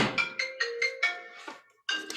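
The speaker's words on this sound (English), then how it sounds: "She has a phone call." A phone plays a melodic ringtone for an incoming call during an online group chat, a clear sequence of bright pulsing notes with a short pause before it resumes.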